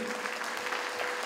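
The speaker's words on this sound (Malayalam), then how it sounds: "രാകേഷ് നിങ്ങൾക്ക് ഗംഭീരമായ കയ്യടി കൊടുത്തു." An audience applauds a performer with continuous, fairly dense clapping that holds steady throughout without any speech.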